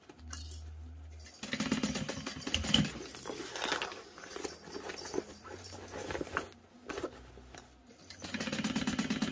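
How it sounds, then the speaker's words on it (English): A sewing machine backstitches fabric for a car trash can in bursts of rapid mechanical rattling and whirring, stopping briefly between runs, close and moderately loud with no talk. "I'm going to backstitch at the start and stop of it."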